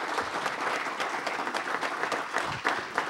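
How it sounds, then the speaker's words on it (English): A dense round of audience applause at a city council meeting greets representatives from two sister cities, steady and close-sounding with no voices over it. "That was a round of applause on behalf of the both representatives from each sister city."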